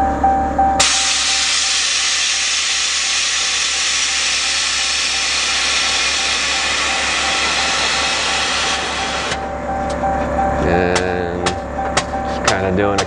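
Air ride suspension on a vehicle vents with a long, loud, steady hiss for several seconds as it levels out, followed by a few sharp clicks.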